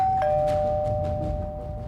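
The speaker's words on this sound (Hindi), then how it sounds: "तभी डोरबेल बज गई" A single electronic doorbell chime sounds once, a clear sustained tone that rings on and slowly fades against a quiet room hum.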